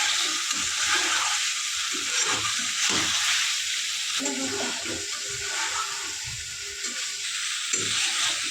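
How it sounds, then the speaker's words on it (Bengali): Water poured into a sizzling egg curry with potatoes, a continuous hissing rush and bubbling over frying noise, close and steady throughout. "এখন দিয়ে দিচ্ছে জল যাতে এটা একটু ঝোল হবে"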